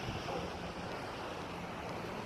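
Heavy surf pounds a beach after torrential rain, a dense continuous roar of crashing water with wind rumbling across the microphone, loud and unbroken.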